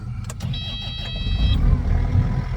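A heavy equipment engine cranks over and then settles into a steady, rumbling idle close by.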